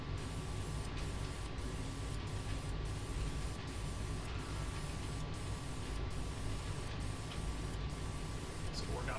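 Spray gun applying coating to a Ford Ranger truggy build, a steady continuous hiss throughout with a faint hum underneath and brief interruptions.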